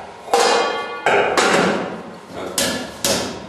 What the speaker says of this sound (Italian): come sto montando una scrematrice